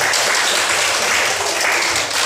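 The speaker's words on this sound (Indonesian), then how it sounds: "Tepuk tangan dulu yang meriah" Classroom of students applauding during a lesson, dense lively clapping that fills the whole brief stretch at a steady level.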